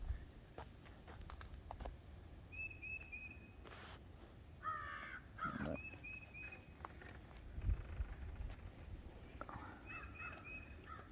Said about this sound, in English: I like the crows and ravens.